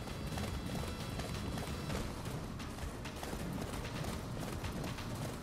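A horse gallops in the Attack on Titan video game Wings of Freedom, its hooves drumming in a steady, dense beat that stays loud throughout under a wash of game sound.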